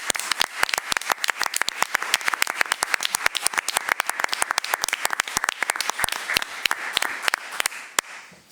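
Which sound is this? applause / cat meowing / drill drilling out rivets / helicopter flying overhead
applause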